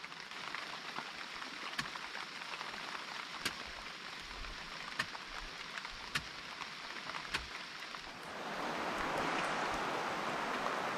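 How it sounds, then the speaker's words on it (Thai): Steady rain pours over a farm field planted with banana trees, a dense hiss of drops that swells noticeably heavier near the end, with a few sharp drips standing out and no voices. "โอ้ฝนมาแล้ว"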